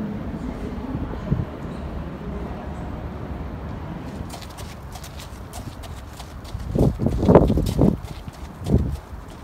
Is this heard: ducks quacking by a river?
no